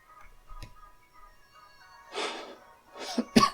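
A few faint noises, then a couple of harsh coughs close by, the last one sharper and louder.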